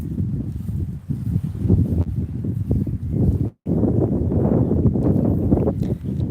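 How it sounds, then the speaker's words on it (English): Wind gusts buffet an outdoor microphone, a loud, low rumbling roar that cuts out briefly partway through and then comes back just as strong. "Let me know if it's too breezy where you guys can't hear."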